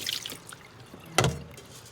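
Faint splashing and dripping water in a pot as rice is rinsed for mango sticky rice, a few soft trickles with one brief louder slosh, no talking.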